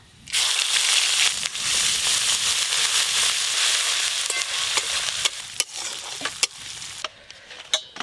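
Asafoetida, mace and whole garam masala spices crackle and sizzle in hot oil. A loud, dense hiss fades gradually, with sharp pops and stirring clatters toward the end.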